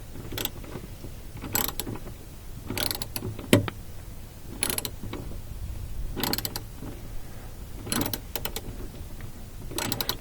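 A ratchet with a 10mm deep socket turning the parking brake adjustment nut on a Toyota Prius, short clicking bursts repeated at irregular intervals, close and fairly quiet with no talk.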